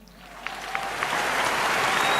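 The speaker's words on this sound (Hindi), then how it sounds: "तालियां" A live business-seminar audience bursts into applause, the clapping swelling from scattered claps into a loud, steady roar of hands close by.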